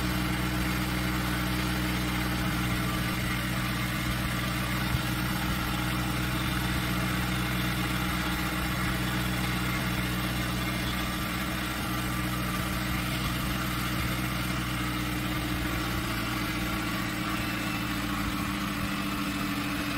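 Small DC motor driving a flywheel at maximum RPM and voltage, a constant loud mechanical hum and whine with steady vibration, unchanging throughout and heard alone.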